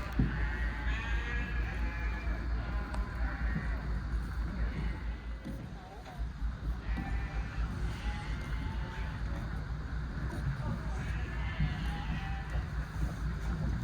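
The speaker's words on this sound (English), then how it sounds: "The noisy sheep were very funny." Sheep bleat repeatedly at intervals in Skjolden, Norway, over a steady rumble of wind and engine noise, with the calls fairly close and clear.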